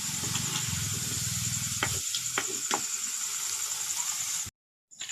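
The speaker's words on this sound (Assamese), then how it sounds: "এয়া আলুখিনি ফ্ৰাই কৰা হৈ গ'ল। এতিয়া এইখিনি মই কাঢ়ি লৈছোঁ।" Potato pieces for a local chicken curry frying in hot oil, a steady bright sizzle broken by a few clanks and scrapes as the pieces are lifted out, ending in a brief silence.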